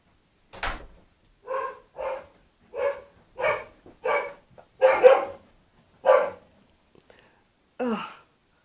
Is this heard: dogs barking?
yes